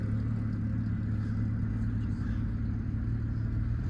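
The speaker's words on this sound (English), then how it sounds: "1968 Dodge Dart with its 6-cylinder engine" A 1968 Dodge Dart convertible's slant-six engine runs at a classic car auction in Zephyrhills, Florida, giving a steady low rumble that holds nearly level, with faint crowd noise in the background.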